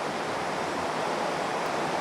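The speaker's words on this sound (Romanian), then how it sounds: "m-am retras de la râu pentru că am senzația că se aude foarte tare" A loud river rushes through the Cheile Râmețului gorge, a steady, dense roar of water that stays constant and close with no voices.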